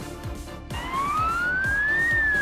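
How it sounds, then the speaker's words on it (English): An ambulance van siren wails loud and close, starting after a brief rumble and rising steadily in a long sweeping tone with no voices over it. "This is an ambulance van."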